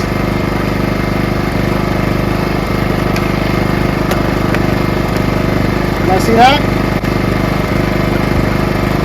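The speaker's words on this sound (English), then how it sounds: "Always wanted these super quiet generators." A PowerSmart portable generator engine, 2500W or 4500W class, runs steadily at a low idle throughout, a constant near hum with faint mechanical whine, while someone talks over it.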